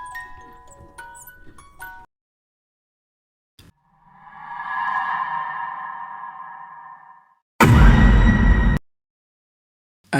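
A watch worn on a character's chest sounds during a transformation in an animated Ben 10 story. A swelling, sonar-like electronic tone rises and fades, then a sudden loud burst hits and cuts off.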